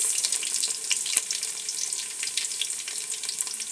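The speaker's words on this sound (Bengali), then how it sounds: "তেল দিয়েছি। এখন পেঁয়াজ মরিচ কাটা দিয়ে দেব।" Chopped onions and green chilies fry in hot oil, crackling and spitting in a dense, continuous sizzle close by, fairly loud and unbroken, with no voices.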